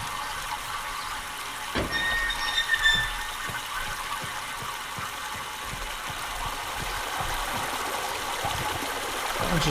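Water pours steadily out of a channel in the video game Myst, a continuous rushing stream under faint mechanical ticking and a few brief tonal chimes.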